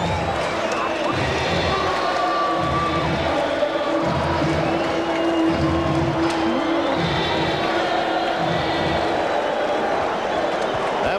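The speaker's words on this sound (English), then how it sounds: "Listen to this crowd and that chant." A packed baseball stadium crowd at Game 7 of the 1986 World Series roars and chants in rhythmic waves, loud and continuous, with a faint broadcast voice underneath.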